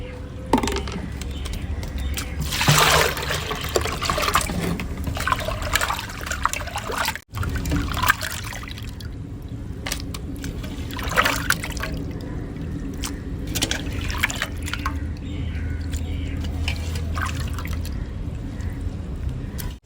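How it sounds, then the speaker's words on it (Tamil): Water trickles and splashes steadily while cleaned barramundi (kodua fish) and prawns are rinsed for fish curry and prawn thokku, a close, continuous running-water sound with brief clatters and no talk. "மீனும் க்ளீன் பண்ணி எடுத்தாச்சு இறாவும் கழுவி எடுத்தாச்சு"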